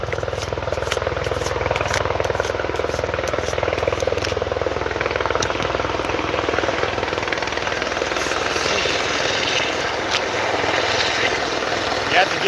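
A helicopter flies near a hospital, its steady rotor chop and engine drone running continuously at moderate loudness across the clip, with a person talking over it.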